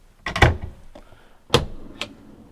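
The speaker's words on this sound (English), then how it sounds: "this is a sliding unit that comes out, or as you'd expect from a sliding unit, slides away" A sliding kitchen drawer unit in a camper van is pulled out and pushed back, giving two distinct rolling thunks about a second apart, each followed by a short rattle, close and clear with no talk.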